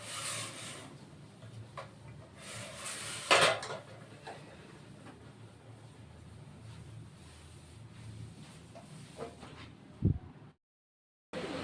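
Dishes, pots and utensils washed by hand, with soft rubbing and scrubbing, running water, and occasional clinks and knocks of metal ware, fairly quiet and close, ending in a sharp clatter followed by a brief silence.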